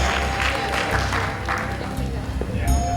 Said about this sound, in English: Keep applauding for them so they feel great about what they did.